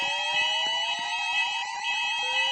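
A mall fire alarm sounds nearby as a steady, loud, high-pitched electronic tone that holds continuously, pulsing in a fast regular rhythm with no pauses.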